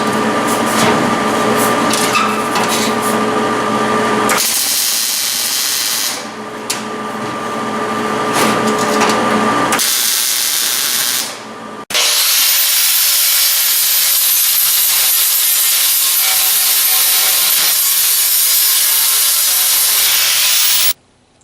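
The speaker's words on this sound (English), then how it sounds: "So we're going to weld a little bit in the corner, adjust it just a little bit, punch some holes in it," A floor panel is welded into a truck in long bursts of harsh, crackling hiss separated by short pauses, loud and close with no voices.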